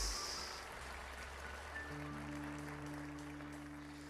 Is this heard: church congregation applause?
yes